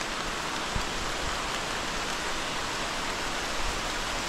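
Monsoon rain falls steadily on a village among trees and pepper vines, a dense, even hiss of drops that holds at the same level throughout with no pauses.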